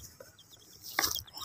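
Rainbow chickens in a chicken-catching video game cluck in short, soft, repeated notes, then a brighter burst of clucking near the end, quiet with no talking.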